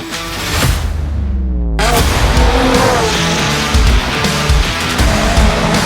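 Toyota GR86 race car with upgraded suspension at Bira Circuit, loud and close, engine roaring through a gear change with tire noise, filling the whole stretch.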